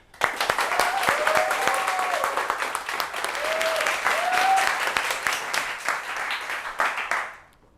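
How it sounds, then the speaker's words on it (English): Audience applause at a web development bootcamp demo day in Bali as the first team is welcomed, a full round of clapping with a few cheers that holds steady, then fades out near the end. "a big round of applause for the first group"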